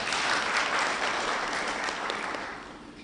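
An audience at the Verona Huruma Sacco 2021 annual general meeting claps in a dense, steady burst of applause that slowly tapers off toward the end.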